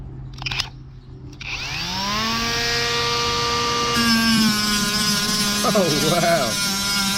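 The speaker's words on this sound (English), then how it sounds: "let's do a little sanding test on our picnic table here" Small Saker battery-powered mini angle grinder spinning up and sanding a wooden picnic table, a steady high whine running loud and continuous after a brief start, with a short exclamation from a man over it.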